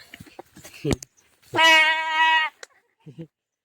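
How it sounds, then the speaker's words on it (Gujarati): A young nilgai, or blue bull antelope, gives a single drawn-out bleating call lasting about a second, loud and close, with a few soft rustles and brief sounds before and after. "રોજનું પછી શું બોલે મેં મેં બોલે"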